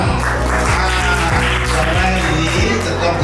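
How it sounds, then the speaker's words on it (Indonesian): A gathering at a school education program event in Indonesia claps together in a continuous, even burst of applause, with a steady low droning tone running underneath throughout. "Tepuk tangan semua"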